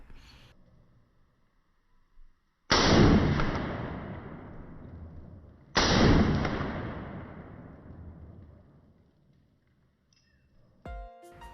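Two loud Glock 43X pistol shots, about three seconds apart, each a sharp crack followed by a long, fading reverberant tail, with faint mechanical clicks before and after.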